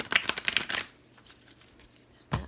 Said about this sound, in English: Hold on, I want to shuffle.